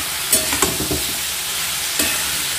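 Ridge gourd stirred in a hot pan with chili powder and salt, a steady close sizzle broken by a few sharp spatula scrapes and clacks against the pan, no voices.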